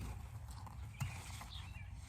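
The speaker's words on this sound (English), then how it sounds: "Neighbor's horse thinks it needs to have its head in my round pen." A horse shifting and moving close by in a round pen, with a soft low thump and light hoof sounds against steady outdoor background noise.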